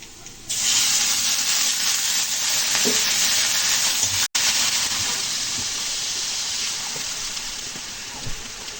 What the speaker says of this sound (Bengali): পেঁয়াজ ভাজি ভাজি হয়ে গেছে, এখন দিয়ে দিচ্ছি পেঁয়াজ আর রসুন বাটা।